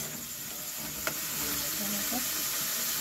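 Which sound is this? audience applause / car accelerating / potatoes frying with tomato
potatoes frying with tomato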